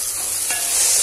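Spices and biryani masala are stirred into a pan for egg biryani, giving a brief, steady hiss-like sizzle with a faint scrape, close and fairly loud.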